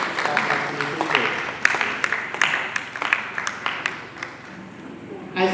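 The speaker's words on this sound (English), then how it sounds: "Please, another round of applause for your participation." Workshop audience applauding participants at a teachers' capacity-building session, a mix of scattered individual claps and softer group clapping under room noise and murmured voices, thinning out toward the end.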